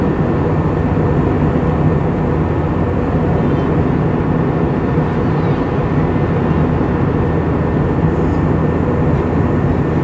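Steady, loud broadband roar of an airplane cabin in flight, a constant low rumble with no breaks throughout, no talking.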